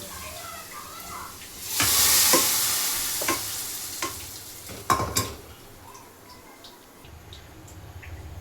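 Onions cook in a pan for a village-style bassaru curry, giving a steady sizzling hiss that swells loudly for a few seconds, with scattered clinks of a spoon stirring and no talk.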